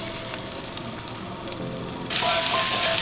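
Garlic hits hot butter in a frying pan for honey garlic salmon, a steady close sizzle that jumps louder and brighter partway through and keeps crackling to the end.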